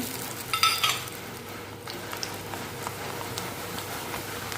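Rice frying in hot coconut oil in a pan gives a steady close crackle and sizzle, with a louder burst of spattering near the start and light stirring throughout.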